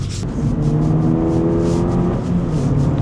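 A BMW 335i engine revs hard and steadily, a loud, close mechanical roar with a sustained high whine that holds for several seconds before settling slightly.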